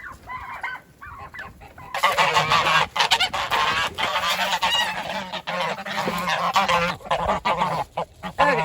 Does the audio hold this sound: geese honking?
yes